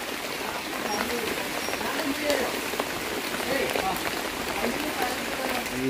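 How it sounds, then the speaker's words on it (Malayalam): Steady rain falling in the evening, a continuous dense patter on surfaces at an even level throughout, with no talk over it. "ഏകദേശം നല്ല മഴയുണ്ട്."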